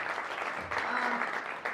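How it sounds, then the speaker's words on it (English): A real estate investors' meeting breaks into applause, a continuous patter of many hands clapping at moderate volume that swells midway and keeps going throughout. "So that round of applause for that"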